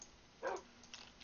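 A single short bark from a dog in the Minecraft video game, crisp and moderately loud against a quiet background, followed by a faint softer yip.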